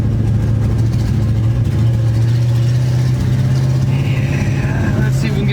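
A 1973 Dodge truck engine holds steady at quarter throttle, a loud, continuous low drone with a deep hum and rough mechanical texture throughout, close to the microphone with no talking.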